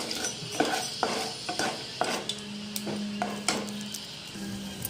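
Popu tempering sizzling in a pan for chintachiguru pappu, with stirring and utensil clinks marking a loose rhythm over a steady close frying hiss.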